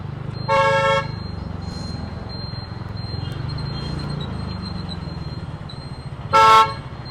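City traffic rumbles steadily around a TVS NTORQ XT scooter on the road, with two short, loud car-horn honks, one near the start and one near the end, over the constant low engine and road noise.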